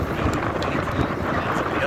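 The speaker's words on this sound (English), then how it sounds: "On the other side, it's very windy." Strong wind roars across the summit of Santa Ana Volcano in El Salvador, a continuous close buffeting rush over the microphone with a voice faintly mixed in.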